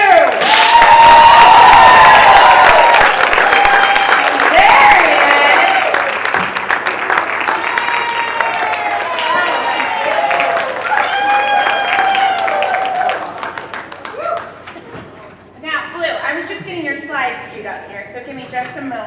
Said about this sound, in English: ladies and gentlemen, put your hands together for the official mascot of the Indianapolis Colts, Blue!